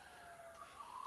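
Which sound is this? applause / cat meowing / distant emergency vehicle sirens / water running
distant emergency vehicle sirens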